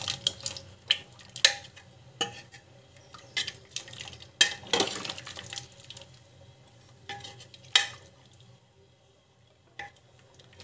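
Potatoes being mashed in a simmering potato-and-pea gravy, irregular soft squelching knocks and scraping taps against the pan, close up, with quiet bubbling between strokes and no voices.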